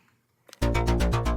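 A bass synth with its filter bypassed kicks in after a short quiet lead-in, a loud, bright, buzzy sustained tone pulsing rhythmically with a gritty edge, no voice present.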